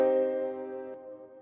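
Short synthesized beat melody note, a copied C, struck once with a bright harmonic tone that decays over about a second, followed by a faint second onset, quiet and alone.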